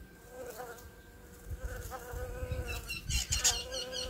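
A bee collecting nectar from flowers buzzes close by in steady, wavering drones, growing a little louder toward the end amid faint outdoor background.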